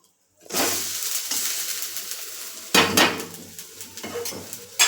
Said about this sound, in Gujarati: બેટર છે તેને તાવીથાની મદદથી બીજી બાજુ પલટાવી લેશું